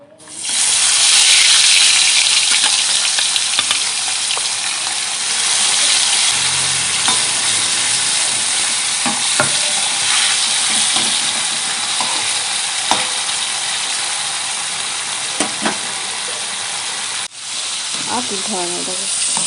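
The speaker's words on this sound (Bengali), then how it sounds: "আমাদের মাছগুলো ভেজে নেব" Amudi fish frying in mustard oil in a wok, a loud, bright, sustained sizzle and crackle with scattered spatters and scraping stirs, heard close up without talking.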